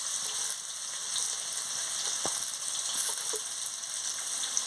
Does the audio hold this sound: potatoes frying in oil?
yes